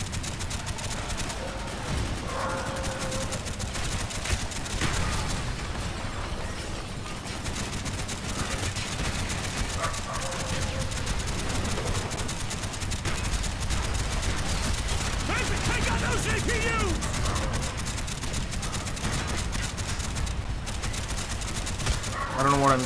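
Call of Duty: Black Ops gunfire, repeated bursts and rattling automatic shots across a busy battle soundscape, moderately loud and steady for over twenty seconds, with voices talking intermittently over it.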